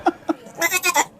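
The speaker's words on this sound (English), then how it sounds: "It's a baby goat." A baby goat bleats up close: two short, sharp cries followed by a longer, wavering series of bleats, loud and clear with no talking.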